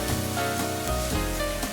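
Flour stir-fried in a pan over low heat, a steady close sizzle that runs without a break under a faint background hum.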